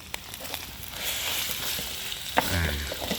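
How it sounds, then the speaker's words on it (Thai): Steady sizzling and crackling of sliced pork belly frying in a small pan for a Thai pork curry, with a few clanks of a utensil stirring, no talking. "เราก็ใส่หมูลงไปนะครับ เป็นหมูสามชั้น"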